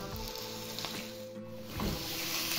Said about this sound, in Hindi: इस पॉइंट पर मैं यहाँ पे डालूँगी 1/2 kg के करीब चिकन